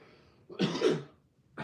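After one large dab of cannabis concentrate, a person gives a harsh, rasping cough close up, then a second cough starts right after it.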